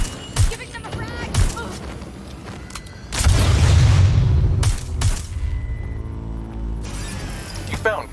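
A frag grenade goes off in the video game Watch Dogs Legion, a loud booming blast with a rumbling tail, among scattered sharp clicks and bangs from the game, and voices talking around it.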